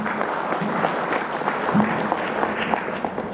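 A large audience at a community organisations' gathering in Bandung claps steadily in a dense, sustained round of applause, filling the hall evenly with no break.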